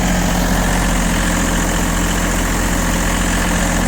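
An Iseki TU-275 compact tractor engine idles close by, a steady loud diesel rumble with constant vibration and clatter, unchanging from start to finish.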